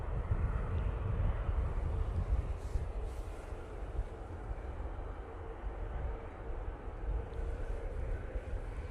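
A propeller airliner taking off from Manchester Airport, bound for Belfast, produces a steady low, broad engine roar with wind rumble. The sound stays loud and even throughout, with no talk.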